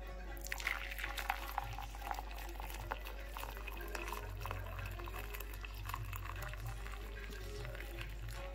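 Water for saffron tea with jujube and mint boils and bubbles steadily at close range, a continuous seething with small pops, no talking.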